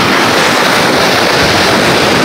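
Rough sea after a typhoon surges against an eroded coastal road, a constant loud roar of breaking waves mixed with gusty wind buffeting the microphone, with no voices.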